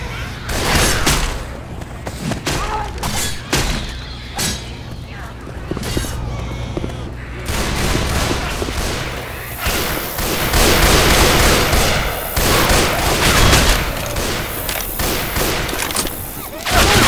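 Sustained gunfire in a Left 4 Dead 2 carnival fairground fight, dense rapid shots and bursts cracking close by almost nonstop, loud and chaotic over a background din, with voices calling out between the volleys.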